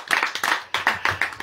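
Hand claps, roughly a dozen sharp strikes in a quick uneven rhythm, close and fairly loud, with no other sound between them.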